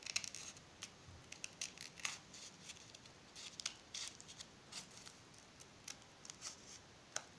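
Quiet, rapid snips of scissors cutting paper, an irregular series of small crisp clicks close by with no voices.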